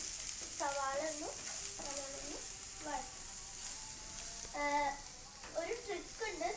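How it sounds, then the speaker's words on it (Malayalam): Chopped onions sauté in hot oil with a steady, bright sizzle throughout, while a voice talks intermittently close by. "സവാള പെട്ടെന്ന് വഴറ്റാൻ നമ്മൾ ഇടയ്ക്ക് ഉപ്പിട്ട് കൊടുത്താൽ സവാള പെട്ടെന്ന് വറുത്തിടും"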